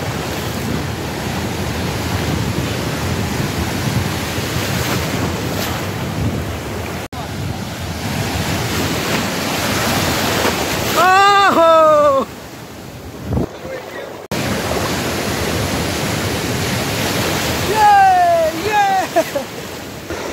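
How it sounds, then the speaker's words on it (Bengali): Sea waves breaking on Digha beach, a loud continuous surf roar with wind buffeting the microphone and surging swells. A voice calls out briefly in the middle of the rush. "একটা বড় সড়ো ঢেউ আছে"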